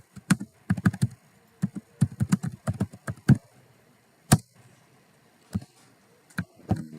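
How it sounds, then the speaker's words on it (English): Keys clack on a computer keyboard, quick bursts of close, crisp taps, then a pause and a few isolated strokes, with no voice over them. "I can backspace and start typing whatever"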